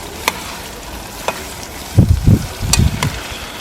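Onion fries in a pan outdoors while being stirred, giving loud scraping stir strokes in two bursts over a soft sizzle, with a few sharp clicks of the utensil against the pan.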